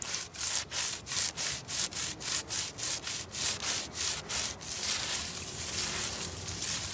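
Wood is sanded by hand in about a dozen quick, even back-and-forth strokes that blend into continuous rubbing, fairly quiet and close, with no talking.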